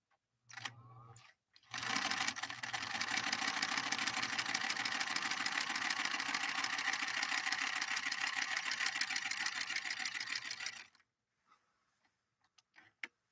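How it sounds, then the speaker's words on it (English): Bernina 125 portable free-arm zigzag sewing machine stitching steadily for about nine seconds, a loud continuous rapid mechanical chatter after a brief start-stop burst, then stopping, with a few faint clicks afterward. "I sewed pretty steady, didn't really stop making some of those corners."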